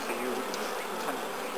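Honeybees crowd a hive frame at an apiary, their dense, steady buzzing close and continuous throughout with no voices.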